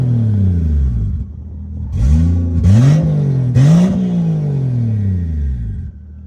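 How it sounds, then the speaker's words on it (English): A turbocharged Lexus SC300 engine idles, then revs hard three times, each blip rising quickly with a whooshing turbo hiss before falling back to a low, loud rumble. "Guess I'll make me a happy little rev video."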